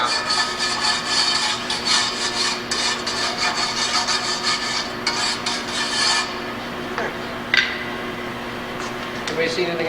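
A wire brush scrubs the outside surfaces of a cast spoke wheel in rapid, repeated rasping strokes for about six seconds, then stops, with someone talking over it.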